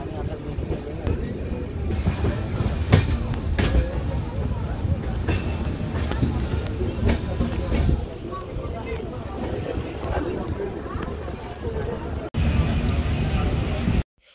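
Train rolling along the Araku hill railway line beside a hillside, a continuous rumbling drone with wind buffeting the microphone and occasional knocks, dropping in level near the end.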